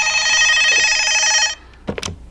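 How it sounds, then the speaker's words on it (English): A hotel room telephone rings loudly with a steady electronic trill for about a second and a half, then stops, followed by the rustle of the handset being picked up. "any second, that phone is going to ring with a wake-up call"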